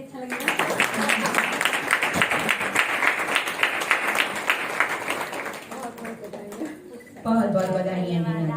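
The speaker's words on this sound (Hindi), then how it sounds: "ताली जरा बजाइए, अच्छा लगेगा।" Audience applauding at a spiritual group's stage presentation, dense sustained clapping for several seconds that fades out before a voice begins speaking.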